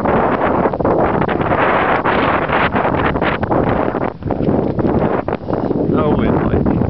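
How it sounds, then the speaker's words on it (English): A strong blizzard wind on the Ocean City, Maryland shore in February 2010 roars loudly against the microphone. The buffeting is constant and heavy, with brief dips, and a voice is partly buried beneath it. "Down here on the south, it is windier than you would even, or could even imagine."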